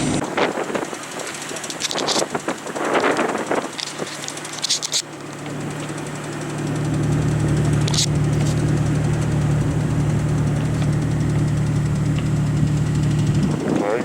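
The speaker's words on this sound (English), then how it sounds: "Got another Jeeper here pulling out this BMW." A Jeep's engine hums steadily while it pulls a stuck BMW, strapped at the wheel, out of deep snow in a blizzard. Wind buffets the microphone throughout, and the engine drone grows stronger partway through.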